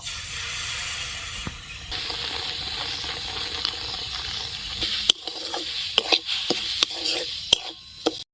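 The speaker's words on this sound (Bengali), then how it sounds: "এই বাটিটার আমি অর্ধেক বাটির দুধ দিয়ে দিব" Milk splashes into semolina frying in a pan for sooji barfi, giving a steady sizzling hiss with scraping stirs and a few sharp clinks near the end; no one speaks.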